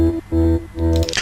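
A deep synth bass for uplifting trance plays three sustained notes in a steady pattern, followed by a brief washy tail of delay and reverb at the end.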